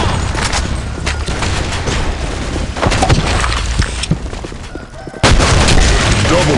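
Rapid gunfire and rocket blasts in a shooter video game, with loud, dense cracking shots and booms in an almost unbroken barrage, cut off by a short lull before a heavy blast.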